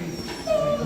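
A dog whimpers at a municipal dog shelter in Yakutsk, a thin, high whine rising briefly near the end over a steady low background hum, close and fairly quiet.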